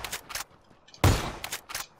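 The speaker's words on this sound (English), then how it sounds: "got a Tommy gun over here." A Tommy gun fires in a video game in short automatic bursts, loud and close, with a longer rattling volley in the middle and no talk.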